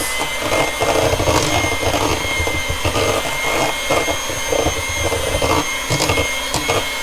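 An electric mixer steadily whirs through lemon loaf batter, a continuous loud motor hum with slight fluctuations as the beaters work, with no voices present.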